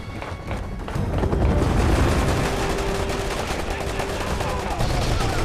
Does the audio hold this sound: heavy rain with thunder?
no